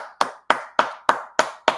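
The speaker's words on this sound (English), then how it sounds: "let's give a round of applause, guys, for Coach Slick right here" Six sharp, evenly spaced hand claps, about three per second and close up, greeting a coach on a live-streamed sports reaction show, with near silence between each clap.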